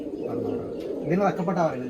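Racing pigeon cooing, a low rolling coo that swells near the mic partway through, heard under a voice in Malayalam talking over it.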